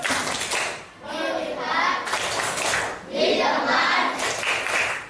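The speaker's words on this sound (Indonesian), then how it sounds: "Coba tepuk fokus dulu, tepuk fokus" A classroom of children does a rhythmic focus clap, the claps coming in grouped bursts with short pauses between them. Children's voices mix in with the clapping at moderate loudness.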